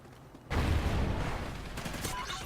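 An MSBS rifle fires a sharp burst in Call of Duty Ghosts, a sudden loud volley of close shots followed by ringing, rattling echoes.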